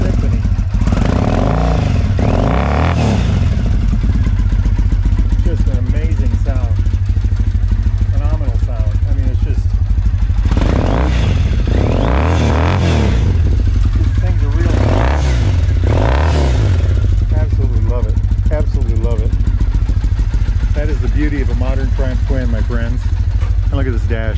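A Triumph motorcycle engine, a TR6 clone, runs loud and steady through British standard exhaust pipes, with revving swells rising and falling throughout while someone talks over it.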